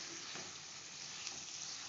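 Pork with potatoes and lai xaak frying in a pan, Assamese style, giving a steady, close hiss of sizzling fat with faint stirring sounds and no voices over it.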